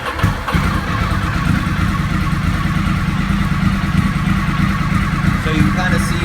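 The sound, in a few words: Ducati motorcycle engine idling and revving with throttle advance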